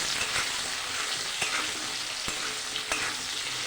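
Potatoes with salt and turmeric fry in a pan with a dense, steady hiss, while a spatula knocks against the metal now and then in sharp clicks and stirs, close up and without speech.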